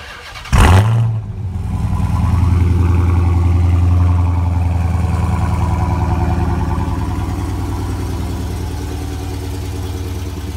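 A 2017 Dodge Charger SRT Hellcat's engine cranks and catches with a sharp burst, then settles into a loud, steady deep idle that holds for the rest of the clip.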